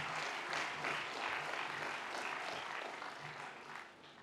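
Faint, distant applause from a university commencement audience greets newly presented graduates, a steady patter of many hands that thins out toward the end.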